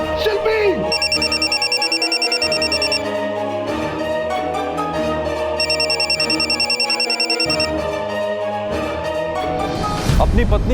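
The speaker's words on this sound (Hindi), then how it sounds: "अपनी पत्नी के बेहोश होने के बावजूद भी बंका जिसका फोन उठाने पर मजबूर हो गया था" A mobile phone rings in a tense TV crime-drama scene, its electronic ringtone repeating in bursts over dramatic background music throughout.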